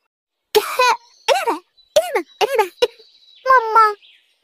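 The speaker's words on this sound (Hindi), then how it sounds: "मेरे गले में बहुत दर्द है और खांसी भी आ रही है" A voice gives several short, strained coughs in a broken series, close and fairly loud, with brief pauses between bursts.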